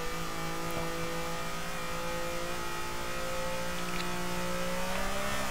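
A DTM race car engine in the DTM Race Driver video game drones steadily at high revs, the pitch climbing slightly toward the end. The engine sounds constant and close, with no voices over it.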